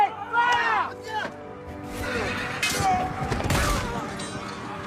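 A volley of gunfire from a Game of Thrones season 8 film set, several sharp, loud bursts ringing out over a busy background with voices nearby.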